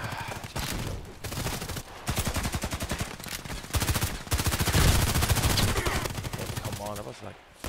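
Rapid bursts of gunfire in a combat flight game with a Vikhr missile strike, steady rattling volleys repeating across the stretch with brief gaps, loud and close throughout.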